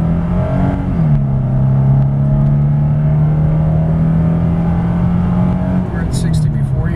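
A 2005 Nissan Frontier SE crew cab accelerating hard from a stop toward 60 mph with the air conditioning on, loud engine revs climbing then holding steady and dropping at a shift, with an occasional voice.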